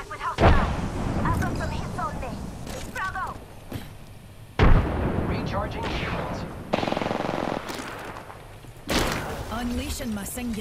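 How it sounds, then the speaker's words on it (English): Rapid bursts of gunfire in the Apex Legends video game crack out in repeated volleys with sharp, loud onsets around 0.5, 4.7 and 9 seconds, mixed with game voice lines and effects. "The enemies are shooting at me."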